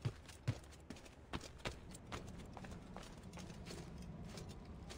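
Horse hooves gallop in Assassin's Creed 2, a run of quick, fairly faint thuds with a few stronger hits early on, over a soft game background.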